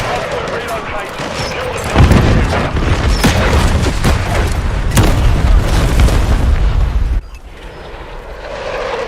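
A stun grenade bursts in a video game, a loud deep boom with rumbling crackle that sustains for several seconds before cutting off, leaving quieter background noise.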